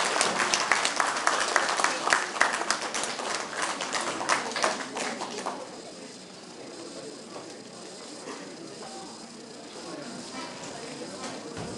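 Audience applause at a concert after a Ukrainian folk song arrangement by Viktor Kosenko, a dense burst of clapping for about five seconds that thins into scattered claps and room murmur.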